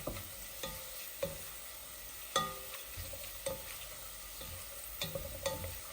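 Garlic sizzles and fries in a pan for a Sylheti-style sweet dish, with steady crackling under repeated sharp clinks and scrapes of a utensil stirring against the pan, close and moderately loud, no talking.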